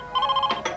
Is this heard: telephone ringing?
yes